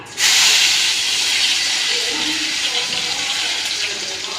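A ground paste of garlic, fennel and black pepper hits a hot pan for a fish curry and gives a loud, sudden hiss. The broad steamy sizzle holds steady, then slowly eases, and faint background voices sit beneath it.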